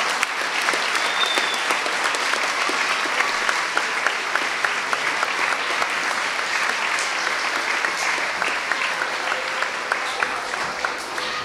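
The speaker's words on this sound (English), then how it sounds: "So let's give her another round of applause." Steady audience applause at the 2018 Connecticut Teacher of the Year award ceremony, a dense wash of many hands clapping evenly for the full length, with faint crowd murmur beneath.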